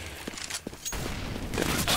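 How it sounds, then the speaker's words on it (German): Gunfire in Counter-Strike: Global Offensive, a burst of sharp shots and a louder crack partway through, followed by dense continuous game noise and firing that builds toward the end. "jetzt wird er von hinten erschossen"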